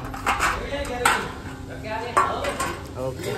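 Food is cooked and chopped in a busy ashram kitchen, with repeated knife chops and clattering pots and utensils. The clanks and knocks come near and irregular over steady kitchen bustle, with voices faintly in the background.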